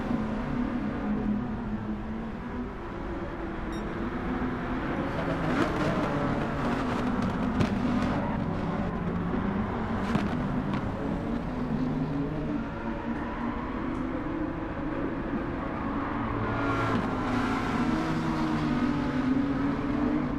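Racing car engines drone steadily in a Gran Turismo 7 race at the Catalunya circuit, a continuous, fairly even roar with slight swells as cars pass, with no talking over it.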